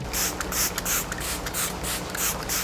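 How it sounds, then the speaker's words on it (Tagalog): Beauty Mist makeup setting spray is pumped in a rapid series of short hissing mist bursts, about a dozen evenly spaced sprays, close and loud with no speech. "gagamit tayo ng setting spray para mas mag-last yung makeup and matanggal yung pagka-powdery"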